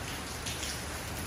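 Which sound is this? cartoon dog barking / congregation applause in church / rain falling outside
rain falling outside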